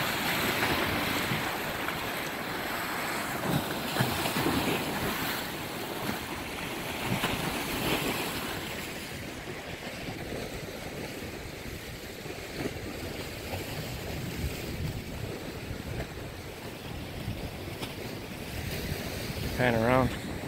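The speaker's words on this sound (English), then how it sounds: "I know we got a bunch of ambient noise now that the waves are kicking" Ocean waves break on shore in a continuous roaring surge, loud and near, with heavy wind buffeting the microphone throughout.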